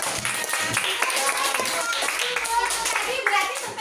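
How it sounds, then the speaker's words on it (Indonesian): A primary school class claps in an Indonesian classroom. Brief applause mixes with children's and a teacher's voices throughout the short stretch. "Tepuk tangan untuk kita."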